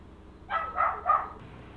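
A dog barks three times in a row, short muffled barks at moderate distance over a quiet low background hum.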